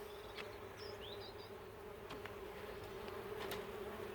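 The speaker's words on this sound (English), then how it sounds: "I've got Mr. Wasp hiding in here." A wasp buzzes among plants in a garden allotment, a faint steady drone low under a constant outdoor hum, with a few brief birdlike chirps and clicks over about four seconds.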